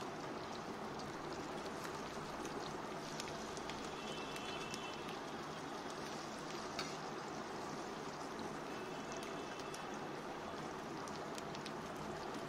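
Green chillies, ginger and garlic fry in a pan with a steady, soft, hissing sizzle that carries on without a break for the whole stretch.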